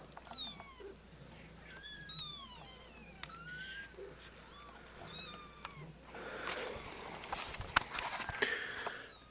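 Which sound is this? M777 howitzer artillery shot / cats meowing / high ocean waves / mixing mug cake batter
cats meowing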